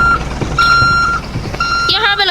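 Repeated electronic reversing beeps from a vehicle in a Roblox game, a loud steady on-off tone pattern mixed with game sounds and a voice talking over it.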